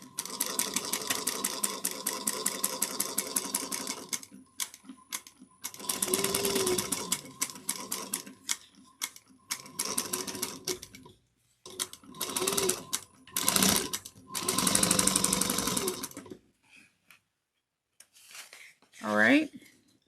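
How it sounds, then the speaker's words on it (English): Sewing machine back-stitching seams on a bucket bag: fast rhythmic stitching in repeated bursts separated by pauses, with a few handling noises between runs and occasional talk. "I'm back stitching at every seam."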